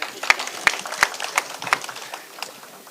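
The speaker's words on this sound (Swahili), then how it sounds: "tupigie hao makofi" Scattered hand clapping from an audience at a Kiambu community security meeting, rising as sparse individual claps with a few sharp louder ones, then thinning out over a brief stretch.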